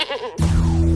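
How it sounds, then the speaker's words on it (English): A goat bleats loudly and close in a radio advert, a single sustained wavering cry that follows a brief warbling lead-in and fills the rest of the moment. "If it wasn't for goats, we wouldn't have coffee."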